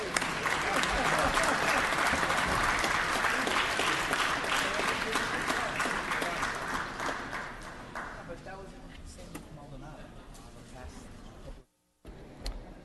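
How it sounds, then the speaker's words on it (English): Assembly members applauding visiting pay-equity advocates in a legislative chamber, dense steady clapping that gradually thins and fades, with a voice starting up near the end. "Please give them a round of applause"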